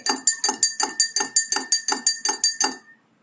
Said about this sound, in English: So I am adding this oil to this glass, and what I will do, I will stir it.